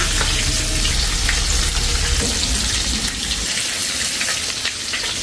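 Chicken wings and necks deep frying in hot oil, a loud dense bubbling sizzle heard close up, steady throughout with no one speaking.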